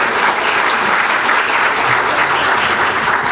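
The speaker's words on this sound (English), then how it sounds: "please give a round of applause to DRA and its 21st birthday" An audience claps steadily in a full round of applause at a court reporting and captioning celebration marking the DRA organization's 21st birthday, dense and sustained throughout with no voices on top.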